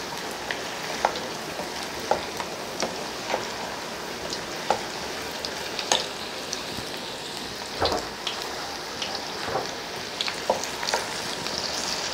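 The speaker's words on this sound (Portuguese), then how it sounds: "Fritar em duas vezes para não encher demais" Small pieces of pork fry in a pan for Japanese sweet and sour pork, giving a steady, dense sizzle with scattered crackles and pops, close and continuous throughout with no talking.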